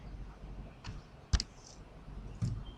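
A few computer mouse clicks, sharp and close: a single crisp click near the middle, then a softer click near the end, over quiet room tone.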